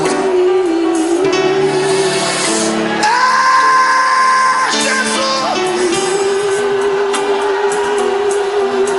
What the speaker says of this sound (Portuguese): Até você que não gosta de dar barulhos tem que gritar agora.